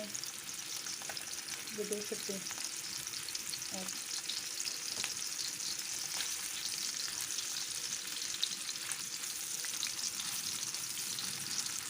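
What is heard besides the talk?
kababs frying in a pan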